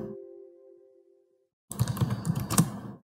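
Computer keyboard typing while an Arduino program is written, a burst of dense clicky keystrokes over about a second after a steady tone fades and a short pause.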